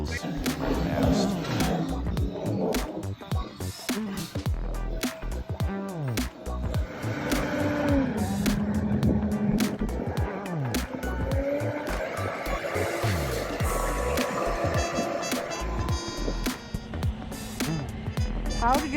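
A Sherp amphibious ATV driving on late-season ice, its engine droning loud and close with rising and falling revs, grinding knocks and rattles, while people talk over it.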